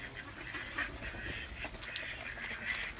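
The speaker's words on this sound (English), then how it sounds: "Look at all these ducks" Ducks quack repeatedly in a hungry, crowded flock close by, overlapping calls forming a steady chatter with no talk over it.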